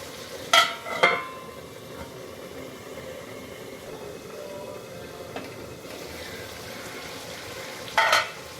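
Telangana-style chicken fry sizzling steadily in a pan, a soft continuous hiss with a few sharp clinks of a utensil against the pan near the start and end.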